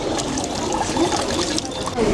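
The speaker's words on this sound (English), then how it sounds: "you're supposed to get some water right here for the purification. And after you get a little bit of water, you're supposed to carefully rinse your hands," Water trickles and splashes steadily as hands are rinsed for purification at a Japanese shrine basin in Kawagoe, a close, continuous pour with no pauses.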